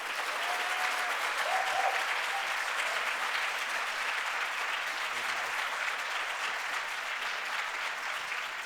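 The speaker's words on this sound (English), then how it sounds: "this moment is probably the only moment where there's a group of people who can literally give a huge round of applause for these people" A large audience at a law-competition discussion gives a long, sustained round of applause, a dense steady wash of clapping heard from within the room, with no talk over it.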